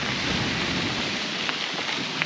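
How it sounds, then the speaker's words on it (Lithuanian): Steady rain hissing all around outdoors on a bicycle tour, a constant wash of droplets with occasional sharper patters and no voices. "Lyja smagiai."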